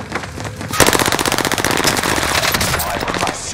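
Rapid automatic machine gun fire in a Call of Duty Warzone match on Rebirth Island, loud and close, bursting after a brief quieter lead-in and rattling continuously for almost three seconds.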